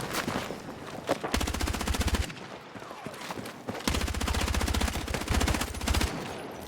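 Gunfire in the Battlefield REDSEC video game comes as two long, loud bursts of rapid automatic fire separated by a short pause, with scattered single shots and clatter around them.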